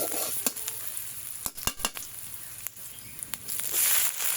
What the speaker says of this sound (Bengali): আমি এই পেঁয়াজ মরিচ কুচিগুলো বেশি ভাজা ভাজা করব না